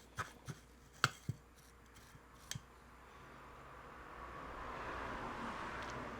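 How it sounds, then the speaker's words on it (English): Traffic on a roadside street passes a house, a vehicle swelling from faint to a moderate whoosh over the last few seconds, after several sharp clicks and taps of cable-building work close by. "That's just my traffic. You guys know I live on the side of the road"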